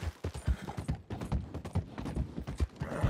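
Rapid clip-clopping horse hooves in Red Dead Redemption 2 Online, steady and fairly close, with a busy rhythmic patter and no voices.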